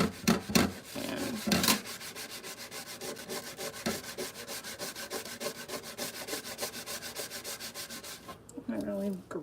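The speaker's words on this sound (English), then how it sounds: "I'm literally just ruining this brush because I don't have any more wire brushes apparently." A regular household scrub brush, used in place of a wire brush, is rubbed hard back and forth in a fast, steady rhythm of close scratchy strokes. The scrubbing pauses briefly near the end.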